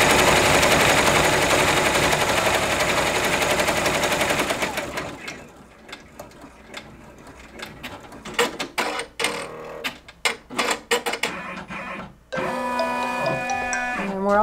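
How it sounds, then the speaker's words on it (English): A multi-needle embroidery machine stitches decorative centers on quilt blocks, starting with a dense, steady mechanical whir, then shifting to rapid irregular clattering bursts and a final sustained humming run, all close and loud. "now it's going to do the final decorative stitching on the centers"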